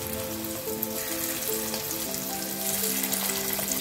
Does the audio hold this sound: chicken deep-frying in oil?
yes